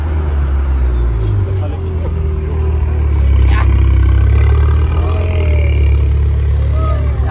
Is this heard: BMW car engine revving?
yes